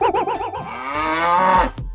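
A cow at a local cattle market gives one long, loud, close moo that swells and holds for over a second before breaking off, with no voices over it.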